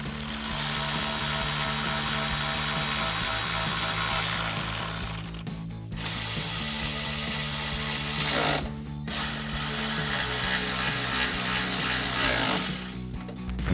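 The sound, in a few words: tightening headlight bolts with a 10mm socket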